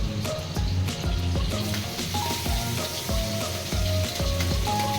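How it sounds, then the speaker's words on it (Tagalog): Garlic, onion and tomato sauté in a home kitchen pan with a steady close sizzle, under a repeating rhythmic background beat of music and occasional spatula scrapes. "Ibigisa na po natin ang bawang, sibuyas, at kamatis"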